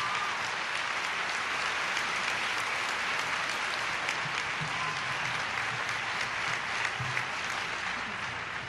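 A seated audience at a talk on First Ladies' documentary legacy breaks into steady, full applause that holds at an even level throughout, with faint murmurs under the clapping.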